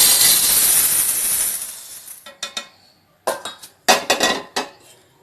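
Roasted urad dal is tipped from a pan onto a plate, giving a soft pouring rustle that fades, then several sharp clinks and scrapes of utensils against the dishes. Close, in a quiet kitchen with no talk.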